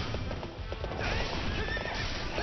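A horse gallops and neighs in the Wii U video game Hyrule Warriors, steady hoofbeats with a loud whinny over busy battle noise, fairly close.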